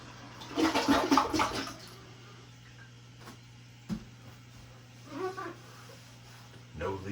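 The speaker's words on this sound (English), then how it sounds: "I'm gonna flush." A newly installed toilet flushes once, a loud rushing burst at the start that fades into faint refilling trickles, with soft voices talking afterward.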